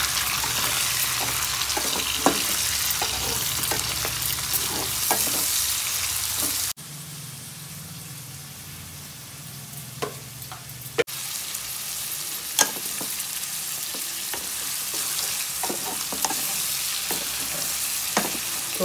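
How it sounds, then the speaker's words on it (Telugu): Two medium-sized onions fry in a pan with a steady close sizzle and scattered stirring scrapes; the hiss drops briefly quieter partway through, then returns at full strength. "ఇవి 2 ఉల్లిగడ్డలు అండి, మీడియం సైజు. ఇవి ఆటోమేటిక్గా ఫ్రై అయిపోతాయి."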